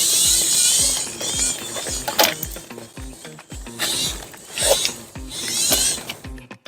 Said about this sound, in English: I'm gonna put my microphone up to the motor so you can hear when we accelerate